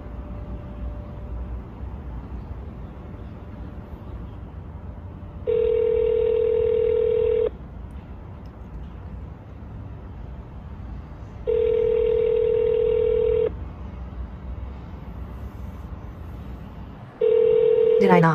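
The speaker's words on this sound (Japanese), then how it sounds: "だから電話してみましょう。" A telephone call goes out and rings back: low background hum, then three long, evenly spaced ringback tones, each about two seconds, with a sharp tone burst at the end.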